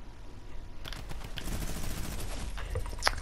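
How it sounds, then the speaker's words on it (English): Rapid, continuous minigun fire in the Roblox game Arsenal, a dense buzzing stream of shots at moderate distance with a couple of sharper cracks near the end; no one speaks. "Great, someone's on minigun."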